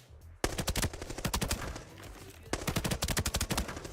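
Rapid automatic gunfire from a video game weapon, two sustained bursts of loud, evenly spaced shots with a short gap between them, close and dominant.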